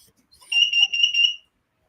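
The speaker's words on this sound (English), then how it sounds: "Sounds like a fire alarm." An alarm sounds from somewhere outside, a steady high-pitched electronic tone pulsing for about a second with no voices.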